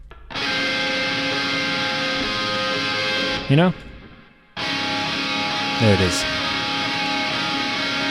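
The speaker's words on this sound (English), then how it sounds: "It's like a screeching, kind of like tearing kind of chord." A harsh, distorted shoegaze electric guitar sus chord rings out loud and sustained, cuts off briefly, then returns, with a voice speaking briefly over it.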